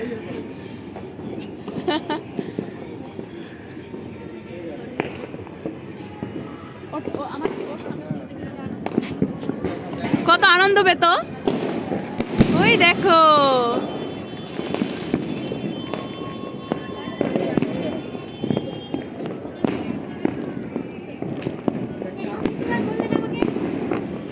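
New Year fireworks burst on all sides in a dense, continuous crackle and boom, with whistling rockets rising midway, close and loud, while voices talk and exclaim underneath.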